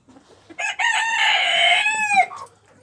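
A Pekin bantam rooster crows once in a long, loud, wavering call lasting about two seconds, close by, with a few soft hen clucks just before and after in a backyard poultry flock.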